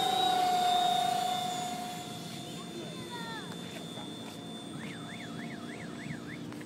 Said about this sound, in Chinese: 起飞，首航。